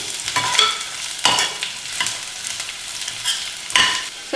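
Onions frying in a little oil for fenugreek pulao, a close crackling sizzle cut by several sharp spatula scrapes as they are stirred now and then, with no speech.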